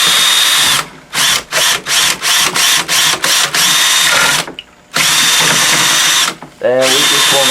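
A power stirrer churns precipitated silver crystals in a large refining batch. The motor whines in a run of short, rhythmic bursts, then in longer loud sustained runs separated by brief pauses.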